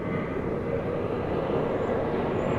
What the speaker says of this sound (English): We have another wide body approaching the runway.